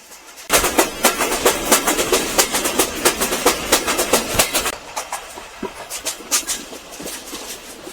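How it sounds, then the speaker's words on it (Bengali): Betna Express train running at about 75 km/h, heard from on board as a loud rhythmic clickety-clack of wheels over rail joints that begins abruptly and keeps a fast, even beat, with no voices. "এই মুহূর্তে বেতনা এক্সপ্রেস ট্রেনের গতি হচ্ছে ঘন্টায় পঁচাত্তর কিলোমিটার"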